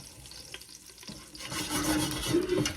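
Spices for saag gosht toast in a pan, faint soft stirring and scraping that swells into a louder sizzle and crackle.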